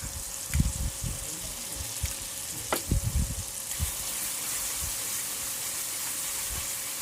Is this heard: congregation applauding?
no